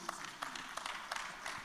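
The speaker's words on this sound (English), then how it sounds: "Please, can we give a round of applause to this gentleman?" Faint applause from a summit audience greets a speaker, a thin patter of scattered claps at a steady rhythm heard from a distance, with no talking over it.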